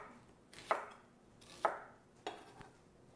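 Knife chopping carrots and celery for soup stock on a cutting board, three separate sharp chops spaced about a second apart, each with a short ringing tail, fairly quiet and alone.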